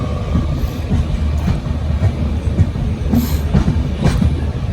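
A train on the Kerala to Goa route rumbles along the rails, loud and close, with a steady low roar and rhythmic clacking of wheels.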